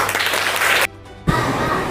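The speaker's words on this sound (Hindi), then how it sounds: "सब बस ताली बजाओ भाई।" Schoolchildren at a girls' middle school in Katras burst into dense group applause, loud and close, broken by a brief near-silent gap before the clapping resumes.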